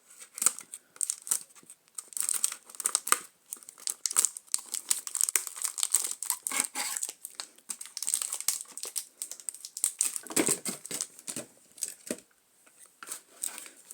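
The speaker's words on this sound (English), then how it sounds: "We'll just quickly untape these using our trusty scissors." Continuous crinkling and tearing of plastic and tape up close as Beyblade X UX-16 Clock Mirage plastic parts are untaped, with irregular rustles and snips from scissors, no voices.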